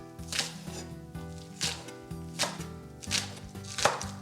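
A knife chops green onions (scallions) on a cutting board in a kitchen, four or five crisp, evenly spaced strikes over soft background music.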